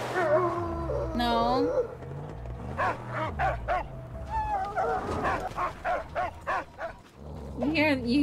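A puppy howls, whimpers and yips loudly and close by, in long wavering howls broken up by short barks, with a person talking over parts of it.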